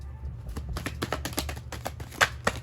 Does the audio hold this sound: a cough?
no